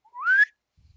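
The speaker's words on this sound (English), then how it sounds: "You blow a slide whistle" Slide whistle blown in a text adventure video game: a single rising glide lasting under half a second, loud and alone with no talk over it.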